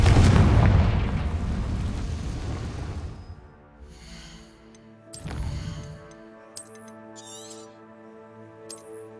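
A booming fire explosion spell cast in the Hogwarts Legacy game, a loud low blast that rumbles and fades, followed by a second burst and magical chimes over a sustained musical drone.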